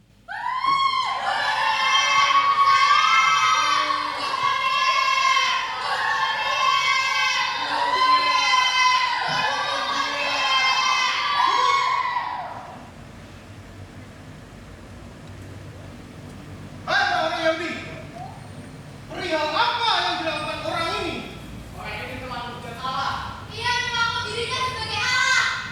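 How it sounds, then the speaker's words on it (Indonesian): A crowd of people shouts together in a Good Friday church dramatization, a loud sustained mass of voices that fades out midway and then returns in shorter bursts, with some children's voices mixed in. "masih terdengar suara teriakan dari orang-orang Yahudi"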